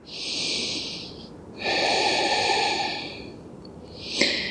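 Slow, deep breaths during a yoga pose in a beginners' class for lower back pain. Two long airy exhales come with a soft snort, separated by pauses, up close in a quiet room, and a faint click follows.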